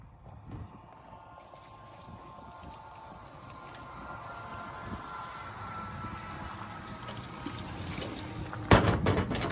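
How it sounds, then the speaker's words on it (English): Steaming hot water from a bucket is poured over a frozen lock on a van in winter, a soft trickling pour that builds gradually and ends with a brief louder splash. "I've got this bucket of steaming hot water."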